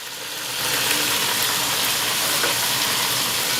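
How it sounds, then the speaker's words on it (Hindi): Crushed and whole green chillies with tomatoes frying in a hot pan for aloo achari pulao, giving a steady, close, broadband sizzle that swells after the first half-second and stays even throughout, with no talking. "इसको हम 3 से 4 मिनट के लिए फ्राई करेंगे, इन सारी चीज़ों को।"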